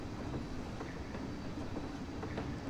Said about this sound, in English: And that's the train entering the station.